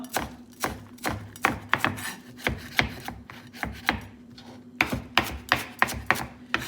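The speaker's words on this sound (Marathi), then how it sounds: "फ्रेश कोथमीर कातोता" Fresh coriander chopped with a knife on a board, giving a close series of crisp, evenly paced thuds with a brief pause midway before the rhythmic chopping resumes.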